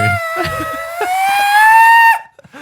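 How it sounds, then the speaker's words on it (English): A woman's long, rising scream cuts through a crowd in video playback, holding a bright sustained pitch for about two seconds before stopping abruptly, followed by a couple of faint soft sounds. "That scream. It sounds like a lady, out in the crowd."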